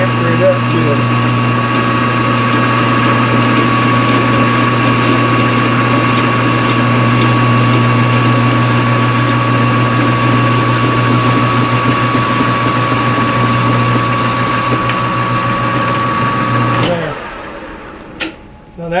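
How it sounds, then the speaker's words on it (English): A metal lathe runs loud and steady while chamfering and deburring a metal part for a chainsaw repair stand, a constant tonal motor hum that winds down and stops near the end. "this one will chamfer both ends of the lathe in a minute"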